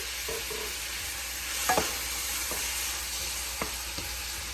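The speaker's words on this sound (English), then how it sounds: "add your onion and your scallion. You just want to saute them around." Onion and scallion sauté in butter in a hot pan, a steady close sizzle with a few light clicks of stirring against the pan.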